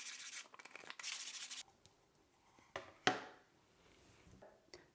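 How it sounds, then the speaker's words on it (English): Sandpaper rubs in short quick strokes along the edge of mounted watercolor paper, close and soft, followed by a few sparse scrapes and light taps. "Here I'm mostly sanding the edge of the paper and smoothing that."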